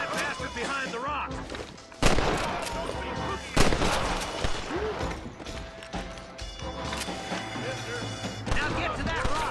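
Gunfire in the Red Dead Redemption western video game, several sharp loud shots and impacts scattered irregularly through a busy firefight, with voices talking over the action.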